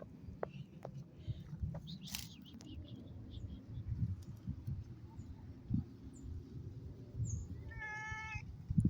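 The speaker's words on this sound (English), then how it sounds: "Very pretty kitty." A friendly pet cat meows a few times outdoors on a calm day, faint against steady background noise and birdsong, with a little human voice nearby.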